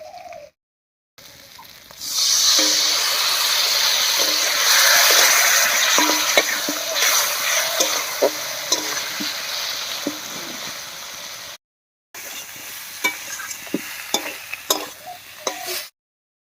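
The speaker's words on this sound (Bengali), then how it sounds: "এবার একটু মশলা পাতা জল দিয়ে কষিয়ে নেব" Ground spice paste thinned with water sizzles loudly in a pan while being stirred for a pangas fish curry, with bubbling frying noise and repeated scraping clicks of the spoon, cut by two brief silent gaps.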